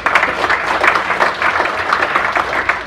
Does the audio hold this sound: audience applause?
yes